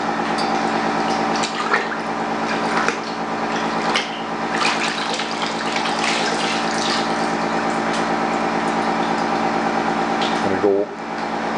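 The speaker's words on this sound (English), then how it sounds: "I'm going to go in once, swish it around a little, and go to my rinse tank." A carburetor part is swished through liquid in a cadmium dichromate plating tank, set against a loud, steady pump-like hum and running water, with a brief splash near the end.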